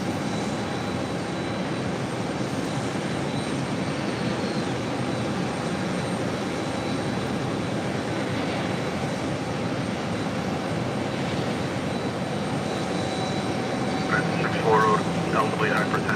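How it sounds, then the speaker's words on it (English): A Delta Connection CRJ 900LR regional jet pushes back from the gate at JFK, a steady broadband engine rumble holding evenly throughout, with talk running over it. "It's a CRJ 900LR, now pushing back from the gates."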